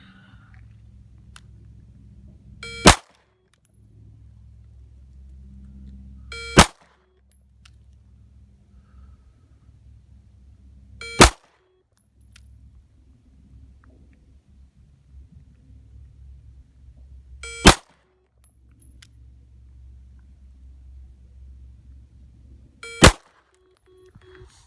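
Five sharp, isolated pistol shots from a VP9 during live fire, spaced roughly four to five seconds apart over a low, quiet rumble.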